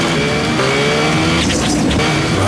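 A Yamaha Mio scooter rides along a road with a steady loud engine and road roar, constant for the whole short stretch with no talk.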